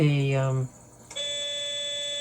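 A Zimo sound decoder fitted to an LGB model trolley sounds its alarm: a high, steady electronic tone that starts abruptly after a brief pause and holds evenly to the end, preceded by a falling tonal sound.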